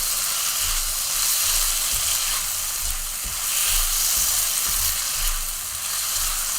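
Chicken thigh meat frying for chow mein, a steady bright sizzle with crackling spatters and faint stirring pulses, continuous and close throughout.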